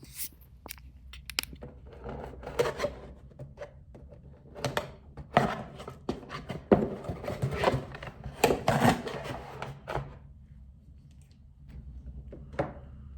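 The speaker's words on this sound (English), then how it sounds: "here is a video of me opening a package instead" Rustling, scraping and handling noises from unboxing an Apple product package indoors, with irregular crinkles and soft knocks clustered mid-way, fairly close and moderately loud, no talking.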